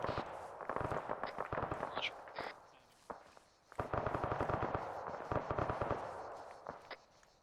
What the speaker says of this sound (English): Be advised that GMG is now aiming and firing.